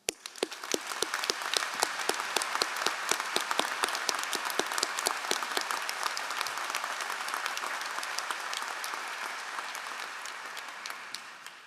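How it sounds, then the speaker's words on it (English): Steady, full applause from the audience at the Tepper School of Business MBA commencement at Carnegie Mellon University, dense clapping holding at an even level before thinning slightly toward the end. "please join me in a round of applause in recognition of her leadership of the Tepper School"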